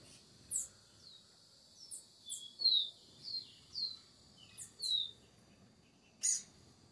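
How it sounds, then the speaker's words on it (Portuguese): Trinca-ferro (saltator) bird near a birdhouse, singing a series of short, clear whistled phrases at irregular intervals, moderately close over a quiet outdoor background. "Trinca-ferro, chegou perto."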